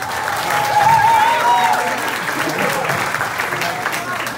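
Crowd applause at a rally for PDP Laban senatorial candidates, continuous dense clapping throughout, with a voice briefly audible over it early on.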